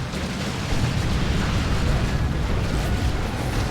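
Cyclone missile launcher explosions in Warhammer 40,000: Dawn of War 2, a dense, continuous roar of blasts and rumbling booms filling the whole stretch at steady loudness.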